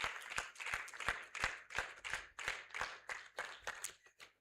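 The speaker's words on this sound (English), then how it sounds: "I expect to be hearing rounds of applause" Audience applause at an academic workshop, a faint, steady run of rhythmic hand claps, about three per second, heard from a distance without any talking.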